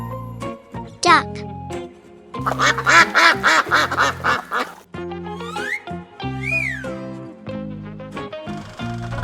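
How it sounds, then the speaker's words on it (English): Duck quacking in a rapid burst of raspy, repeated quacks in the middle, surrounded by a light, tinkling musical accompaniment with sustained tones before and after. "Duck."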